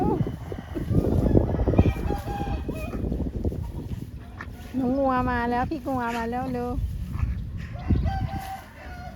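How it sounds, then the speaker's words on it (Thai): A rooster crows clearly in the middle, long and wavering, while people talk nearby before and after. "ได้ยินเสียงไก่ขัน"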